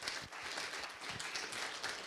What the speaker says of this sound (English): How about a round of applause for Bill Falloon?